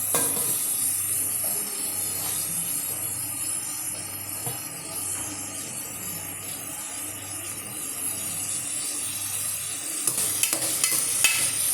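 Onion frying and being stirred in a pan for a green peas curry, a steady close sizzle with repeated scraping strokes of the spoon running continuously throughout.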